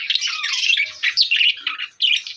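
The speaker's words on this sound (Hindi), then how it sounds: "ये मेरा कबूतर उड़ा" Bright pigeon chirps and squawky calls come in quick bursts, close by, with short pauses between them and no talking.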